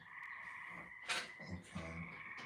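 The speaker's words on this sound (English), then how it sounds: "So that's the buzz to let you know it's metal." A handheld jewelry tester emits a steady electronic buzz signalling metal, a faint, continuous tone running throughout with a few soft handling knocks beneath it.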